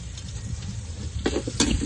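Small onions and curry leaves frying in a pan for pakoda kuzhambu, giving a steady low sizzle with a couple of louder stirring bursts near the end.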